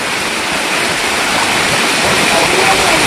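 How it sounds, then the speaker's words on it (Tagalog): Heavy rain and wind lashing down during a flood, a loud unbroken roar of rushing water and gusts filling the whole stretch without pause. "Wala pa rin tigil ang ulan at ang hangin."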